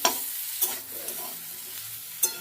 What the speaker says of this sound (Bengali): এবার আর ভালো করে নাড়াচাড়া করে নেবো, আর ঢাকনা দেবো না।